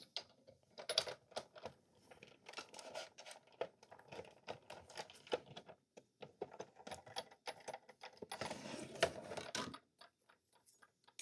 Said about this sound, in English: I have brought in my Sizzix die cut machine so we can get our focal image cut out and our black piece embossed.